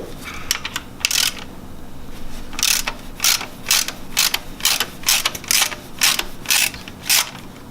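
Ratchet wrench clicking in short repeated bursts while loosening the drive belt tensioner on an Infiniti G35, close and clear, each run of rapid pawl clicks separated by brief pauses, with no talking.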